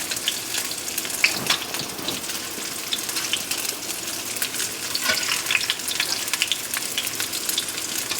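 Pierogi fry in a pan of straight olive oil, a dense, even sizzle with crackling pops throughout, close and steady with no talking.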